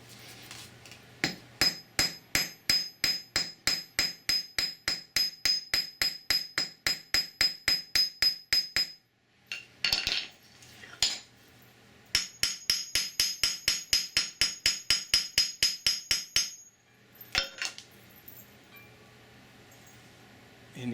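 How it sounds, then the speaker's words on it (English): A hammer pounds texture into copper metal, firing rapid, steady metallic blows in two long runs with a brief pause between them, close and crisp with no talk. "it allows you to pound out texture into your metal"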